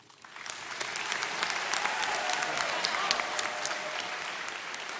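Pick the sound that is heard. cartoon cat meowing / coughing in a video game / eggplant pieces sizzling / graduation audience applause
graduation audience applause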